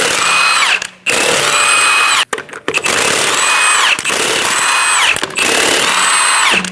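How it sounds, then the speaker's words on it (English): Power impact wrench with a 22mm socket spinning off rear wheel lug nuts on a Dodge Durango: several loud, close whirring bursts with rising and falling pitch, split by brief pauses. "remove the 5 lug nuts."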